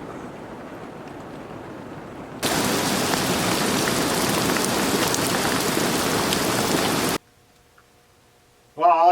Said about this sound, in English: The rain's really coming down now.